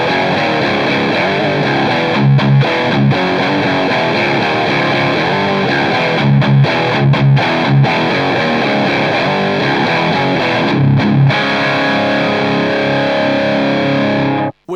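Distorted electric guitar through a 1992 Bogner Ecstasy 50-watt amp, loose, saturated chords and riffs played continuously and loud for the whole stretch, close and with no talking.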